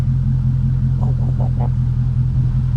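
A Dodge Charger Scat Pack with a Knockout 360 setup rumbles steadily at idle, its loud, deep exhaust drone continuous, with a few brief blips of revving near the middle.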